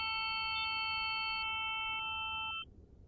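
Resynthesis of a harmonic sound from a sinusoidal model produces a stack of pure steady tones that sound together, individual partials dropping out one by one before a quiet tail, with no talk.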